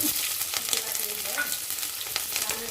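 Garlic, ginger and green chili frying over a high flame in a pan while Manchurian is cooked, giving a steady close crackling sizzle with light stirring and no voices.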